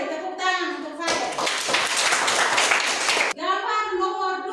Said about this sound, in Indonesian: Mari tepuk tangan untuk Fade.